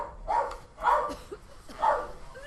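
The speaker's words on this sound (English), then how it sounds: "they bark like mad" Dogs indoors bark three times in loud, spaced yips at moderate distance, with faint background noise between barks.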